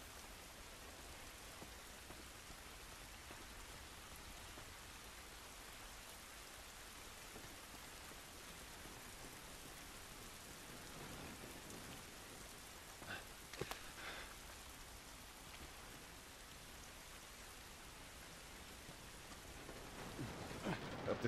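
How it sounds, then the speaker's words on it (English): Rain falls steadily in The Last of Us Part 2, a constant soft hiss of drops on surfaces throughout, fairly faint, with a few louder spatters near the end and no talk. "This rain ain't gonna do us any good."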